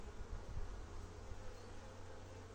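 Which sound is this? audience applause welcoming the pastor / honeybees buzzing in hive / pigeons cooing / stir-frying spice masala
honeybees buzzing in hive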